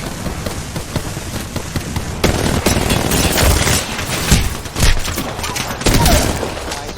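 Dense, loud video game gunfire from a minigun-style weapon rattles almost continuously, layered with sharp impacts and bursts close up and no clear talking.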